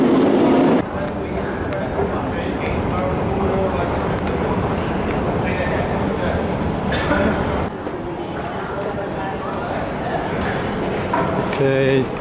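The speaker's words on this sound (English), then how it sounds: "Our train is already taking off again. This one just arrived." A train rumbles steadily through a station in Bucharest with rattling and hiss, a loud clatter at the start and short tonal signals near the end.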